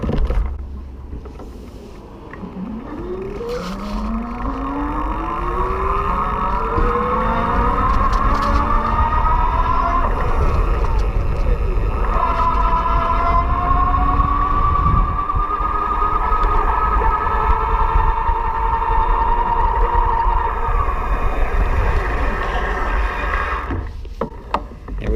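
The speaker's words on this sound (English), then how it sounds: "I'm just going to ease into it with the throttle to show you how smooth it can be." The electric motor of an E-Lux Monaco e-bike, ridden on throttle in its highest gear, rises in a smooth whine that climbs in pitch as it speeds up, then holds steady against outdoor rolling noise.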